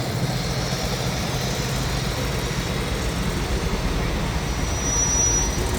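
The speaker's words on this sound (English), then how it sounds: "This is a little larger tractor in the Oliver line, a 2150." An Oliver 2150 tractor of about 135 to 140 horsepower rolls past in a farm show parade, its engine a steady low rumble that holds throughout, with a faint high whine running above it.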